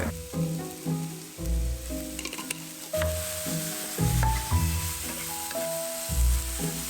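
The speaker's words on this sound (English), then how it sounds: "you want to cook this gently at a low temperature, stir it around a little bit" Apple with cinnamon and nutmeg cooks gently in a pan over low heat, giving a soft, steady sizzle with some stirring beneath louder tonal music.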